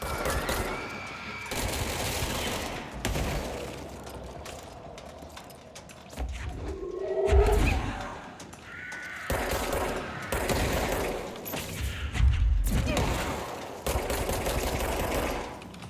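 Rapid bursts of gunfire from the video game Control come in several loud volleys, with short gaps between stretches of shooting.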